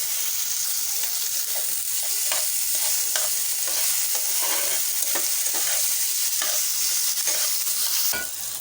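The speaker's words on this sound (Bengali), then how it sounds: "পেঁয়াজ আর মরিচটা একটু ভেজে নেব। একেবারে অল্প তেল দিয়েছি" Onion and chili fry in a little oil, a steady bright sizzle with a spoon stirring and scraping the pan in repeated strokes, close and continuous.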